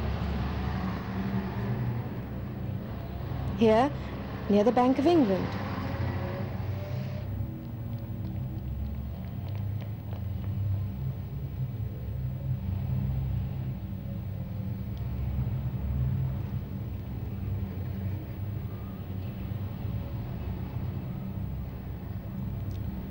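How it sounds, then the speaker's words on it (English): Busy London street traffic of lorries, cars and buses near the Bank of England, a constant low engine rumble with passing vehicles, under a narrator's voice early on before the traffic carries on alone. "some of the streets have been widened to take all the traffic, the lorries, the cars and buses hurrying by"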